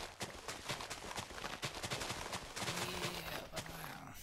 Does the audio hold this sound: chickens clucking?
no